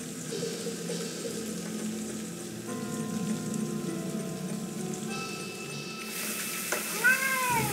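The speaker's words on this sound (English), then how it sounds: "Just a mangy cat." A cat meows in the video game Lost Horizon, a short mewing call near the end over a steady ambient game backdrop of low hum and faint ticking.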